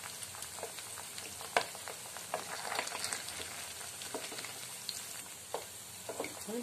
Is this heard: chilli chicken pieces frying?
yes